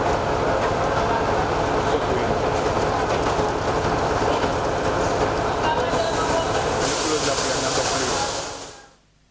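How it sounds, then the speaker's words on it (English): Train running on Uganda's standard gauge railway, a steady loud rumble with hissing wheel and rail noise that holds for about eight seconds before fading out at the end. "The journey to Uganda's standard gauge railway continues, and it already took center stage."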